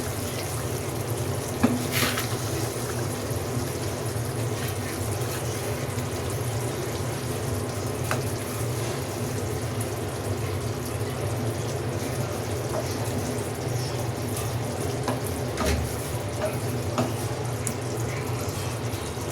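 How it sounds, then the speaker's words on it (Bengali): Eggplant curry slowly simmering in a pan on low heat gives a steady, even bubbling hiss with faint pops, close and continuous, with no voices. "এটা আস্তে আস্তে সিদ্ধ হবে"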